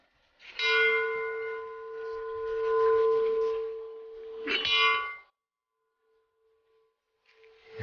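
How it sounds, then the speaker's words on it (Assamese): A temple bell is struck twice, each time ringing out with a bright metallic clang that hums and sustains for several seconds before fading. A quieter strike follows at the end. "বজাই যা ঘণ্টাটো"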